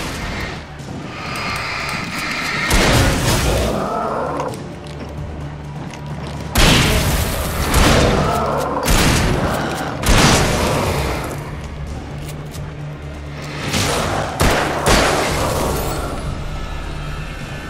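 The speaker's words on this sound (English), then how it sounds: "Flashbangs." Flashbang grenades bursting in the video game Alan Wake: several loud broadband booms and bangs in uneven bursts over a constant low in-game rumble, with no talk.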